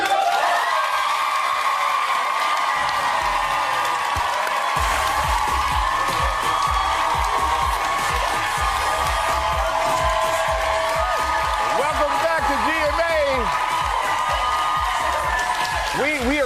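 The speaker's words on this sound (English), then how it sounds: "Applause, everybody!" Studio audience on a morning TV show set, cheering for a K-pop group's performance, a sustained roar of crowd noise with clapping and shouts, loud and steady throughout, with a host's voice and music mixed in.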